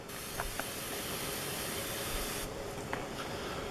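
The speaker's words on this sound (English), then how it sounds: "I suggest buying one of these sprayers because it's easy to spray underneath." A steady, close hiss of a garden pump sprayer runs continuously, cutting off partway and leaving a softer hiss with faint tapping.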